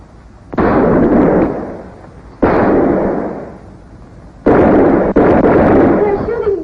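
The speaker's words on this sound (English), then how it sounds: "They're shooting back." Gunfire in a 1956 film shootout: three or four loud, booming blasts, each a sharp onset with a long decaying roar, spaced about two seconds apart, the last two close together.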